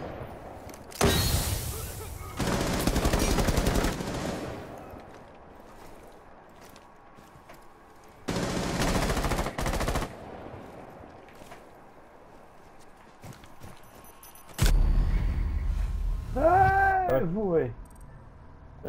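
Gunfire in the tactical shooter Rainbow Six Siege: three loud, sustained bursts of rapid shots, the last fading into a whistling, ringing tail, with quieter stretches between.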